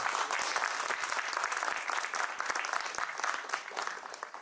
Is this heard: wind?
no